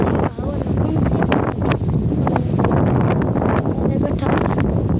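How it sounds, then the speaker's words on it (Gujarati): Wind blows hard across the microphone outdoors near a Hanuman temple, a loud, continuous rushing roar with gusty swells and no clear pauses. "પવન એમ થાય"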